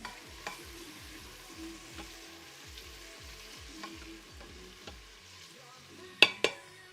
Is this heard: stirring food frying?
yes